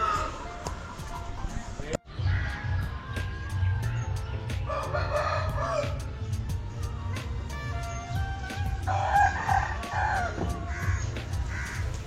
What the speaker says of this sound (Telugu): వేరేగా పందానికి కోళ్ళు రెడీ చేసుకొని ఉన్నారు, చూడండి అనిపిస్తున్నాయి